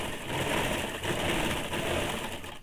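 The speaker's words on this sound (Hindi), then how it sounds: "इसी प्रकार से सिंगल सिलाई अभी हम लोग डाल रहे हैं" A sewing machine runs a steady single line of stitching through woolen fabric for a baby frock, its close, continuous whirring motor holding an even pace throughout with no voices.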